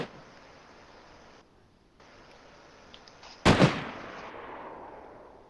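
A single sharp gunshot from DayZ gameplay cracks out loudly and close, followed by a fading echoing tail over a steady background hiss; no speech.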